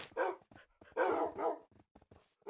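Dogs bark and yip in a Minecraft UHC match, several sharp close barks in bursts with short gaps and a small whimper, no talking.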